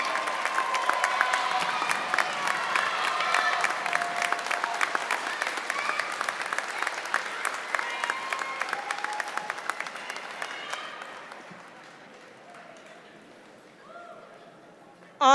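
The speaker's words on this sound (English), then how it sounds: "Yes, give them a round of applause." Audience at a spring university commencement ceremony applauds the graduates' supporters, a dense sustained round of clapping filling a large hall that tapers off after about eleven seconds, leaving quieter room sound.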